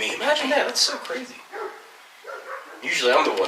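Neighboring dogs bark excitedly in repeated yaps and bow-wows from a short distance, in bursts with a brief lull in the middle, while a person talks over them.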